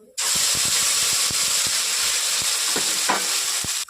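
Spice paste hitting hot oil already holding whole garam masala and cumin, for matar paneer, gives a loud, steady, close sizzle with a few stirring knocks and scrapes.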